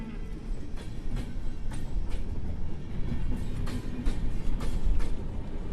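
A freight train rolls through the Palmira railway yard in Mendoza, with rhythmic wheel clacks over rail joints and a low rumble, sustained and fairly close, no voices.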